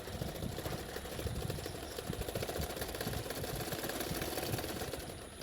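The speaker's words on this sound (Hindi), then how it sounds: "एक्स्ट्रा फैब्रिक के ऊपर ऊपर मैं सिलाई कर रही हूँ।" A sewing machine running steadily as it stitches extra fabric on a girl's frock, a fast even mechanical clatter with continuous rhythm throughout, close and moderately loud.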